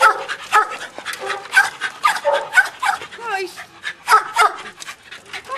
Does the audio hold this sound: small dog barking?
yes